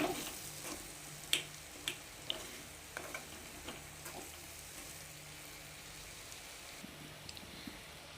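Potato fry being stirred with salt in a pan: a soft, steady sizzle with scattered light clicks and taps of a spoon against the pan, close but quiet, without talk.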